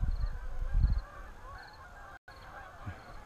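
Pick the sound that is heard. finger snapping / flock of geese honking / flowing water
flock of geese honking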